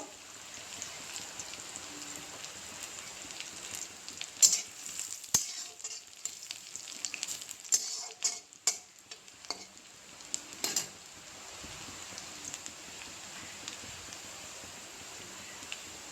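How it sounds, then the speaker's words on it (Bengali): Onions fry in a pan for a Bengali home-cooked dish, a soft continuous sizzle with a cluster of stirring scrapes and utensil clinks in the middle before the hiss settles again. "পেঁয়াজগুলো একটু ভাজি ভাজি করে নেব।"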